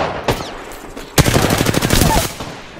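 Rapid automatic gunfire in the video game Apex Legends on a PS4 Pro. A single shot comes first, then a dense burst of shots close up follows, with a clattering rhythm.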